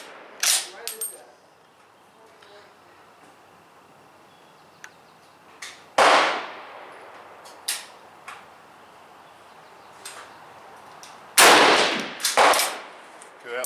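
Swiss K-31 rifle fired outdoors with a 4895 powder load: several sharp, loud bursts with quick decays, spaced irregularly across the span, plus a few smaller clicks and knocks between them.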